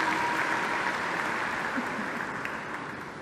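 Audience applause for a second-prize winner at an International Women's Day event, a steady wash of clapping from a crowd that fades slightly toward the end.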